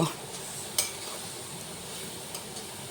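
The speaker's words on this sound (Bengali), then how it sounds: "এবার গাজরগুলো দিয়ে দিচ্ছি। গাজরগুলো আমি একটু ভালো করে ভেজে নেব।" Carrots frying in about four tablespoons of ghee for carrot halwa, a steady soft sizzle with occasional stirring scrapes and clinks of a utensil against the pan, close and continuous.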